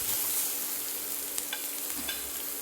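Garlic and small onions sautéing in a pan for coriander rasam, a constant dense hiss of frying oil with a few faint spatula scrapes, close and even throughout.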